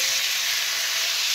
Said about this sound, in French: Et on va faire revenir donc nos morceaux de poulet.